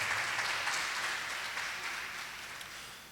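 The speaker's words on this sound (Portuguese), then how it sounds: "Dê um aplauso ao nome do Senhor Jesus nessa manhã." A church congregation applauds during a Sunday morning service, a soft, diffuse wash of clapping from a crowd in a reverberant room, slowly fading toward the end.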